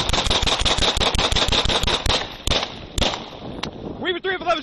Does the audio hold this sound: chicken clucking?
no